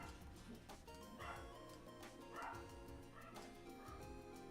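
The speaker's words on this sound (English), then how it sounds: "my dogs have decided now is the time to bark." Several pet dogs bark and yip in short irregular bursts, moderately close and loud, with some whimpering between the barks and no talking over them.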